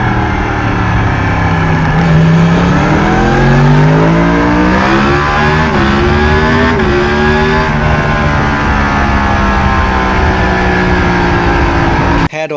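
A 2016 Yamaha MT-10 motorcycle engine revs loudly up close, pitch climbing and settling through steady sweeps, with air rushing into the intake under the roar.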